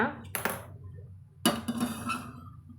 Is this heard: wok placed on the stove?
yes